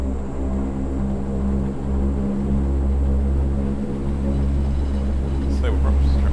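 Engines of a 1957 Convair CV-580 propeller airliner flown by Air Chathams during the takeoff roll, making a loud, steady droning roar with strong tonal harmonics that holds without a break.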